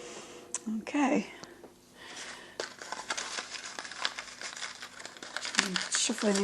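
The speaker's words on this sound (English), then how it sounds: "I'm shuffling these so that you can see that there are completely random things" Tarot cards are shuffled by hand in a quick series of papery riffles and crinkly rustles, close and fairly loud, with a person talking in between.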